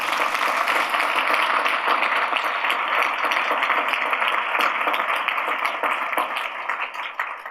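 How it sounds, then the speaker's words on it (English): Steady audience applause for prize judges at a financial inclusion awards event, a dense continuous wash of clapping from a large crowd that holds throughout and thins slightly toward the end. "So if you all stand up and a round of applause for these judges."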